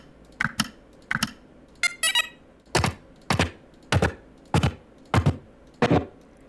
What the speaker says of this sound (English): you can really see what a satisfying button click can be like with a sound